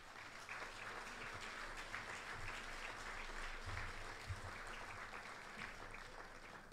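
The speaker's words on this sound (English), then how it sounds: "A round of applause, please." An audience applauds at the 2008 Chicago Silver Circle Honors Dinner, a dense, even wash of clapping from a large room that runs steadily throughout, fairly distant and with no voices on top.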